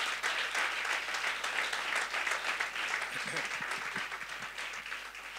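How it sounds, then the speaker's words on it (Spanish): Strong, sustained applause fills a church service, a dense wash of many hands clapping at steady loudness throughout, with a few faint voices underneath. "Dale un fuerte aplauso al Rey de Reyes."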